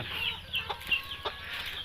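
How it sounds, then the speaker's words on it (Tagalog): Rhode Island mix chickens and a rooster, a Rhode Island and Orpington cross, cluck faintly nearby with a few short calls over a quiet farmyard background. "meron din akong tandang dito isang ano mix din ng Rhode Island"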